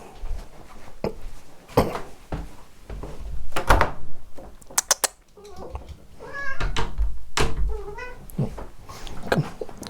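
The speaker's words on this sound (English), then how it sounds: "My little cat walked in, see?" A pet cat wanders in and meows several times in a row, with clear mid-pitched calls, amid knocks and thumps that sound like a drawer or door in a room during a live rock-themed broadcast.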